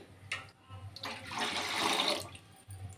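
Water is poured into a cooking pot while rava prasadam is being made, a steady rushing splash that swells for about a second and then stops, fairly close and alone.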